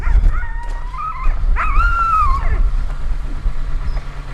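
A Siberian Husky whimpers and yelps in rising, wavering cries, two drawn-out vocal bursts in the first few seconds, fairly close and loud, followed by quieter room noise.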